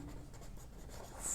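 Chalk or marker writing numbers on a board, faint soft scratching strokes, quiet and alone.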